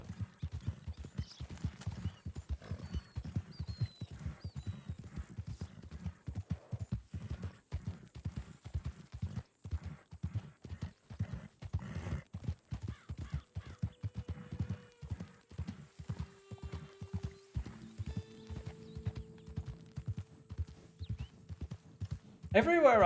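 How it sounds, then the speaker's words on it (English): Donkey hooves clip-clopping steadily at a walking pace in the Red Dead Online video game, a continuous rhythmic thudding throughout, with a voice talking over it and a brief bray or whinny near the end. "Just a donkey"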